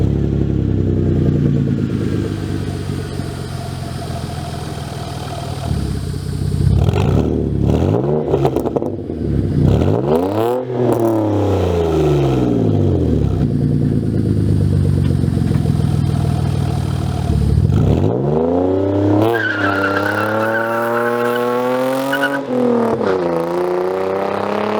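A 2015 Hyundai Genesis Coupe 3.8 R-Spec V6 with a CNT Racing V3 catback idles with a deep burble, then revs hard several times, each blip rising and falling sharply, loud and close with no voices.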